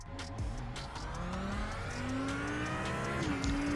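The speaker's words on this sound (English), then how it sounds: "I guess the engine sounds something like this." Race car engine in a sim racing game at the Nürburgring, revving and shifting with rising and falling tonal whine, steady and moderately quiet throughout.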